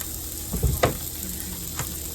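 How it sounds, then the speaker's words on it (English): Sliced onions sauté in a pan, a soft low sizzle with a few brief clunks of stirring or handling, heard close and fairly quiet. "And then I'll put the onions and mushrooms in to saute."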